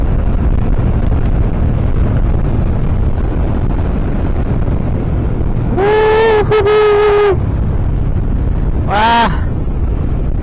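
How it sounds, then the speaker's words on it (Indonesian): Strong coastal wind at Sawarna, Banten roars steadily across the microphone, with a couple of brief harmonic tones, a short exclamation and a honk-like note, cutting through the rush. "Ini angin di bawah aja di sini guys, kenceng banget."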